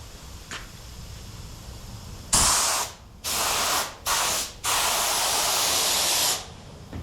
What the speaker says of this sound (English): I need to spray some glue on these edges